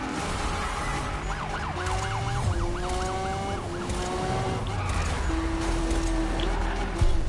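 In Need for Speed, a police siren wails through a car chase, its fast warbling rising and falling for a few seconds under the steady drone of engines and game noise.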